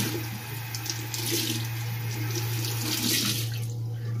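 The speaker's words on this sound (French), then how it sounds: "Et du coup j'utilise de l'eau. Voilà, donc je mouille mon coton." Lukewarm water runs from a tap over a cotton pad being wetted for makeup removal, a short steady splashing stream close to the listener.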